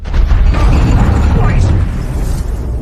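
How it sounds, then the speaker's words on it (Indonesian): A loud, rumbling explosion goes off in a hotel lobby as a film sound effect, its heavy low boom and debris roar filling the whole stretch, with a voice speaking over it. "Tidak lama kemudian, ledakan terjadi dari lobi hotel."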